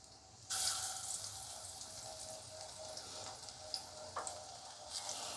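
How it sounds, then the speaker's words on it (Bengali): Mixed vegetable pakora batter hits hot oil and bursts into a sudden bright sizzle, then settles into a steady crackling fry with scattered pops, heard up close and fairly quiet. "তেলটা গরম হয়ে গেছে, এবার আমি ভাজা শুরু করলাম"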